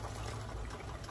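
Chicken broth poured into a soup pot in a home kitchen, a short steady gush of liquid filling the pot up close, with no talking.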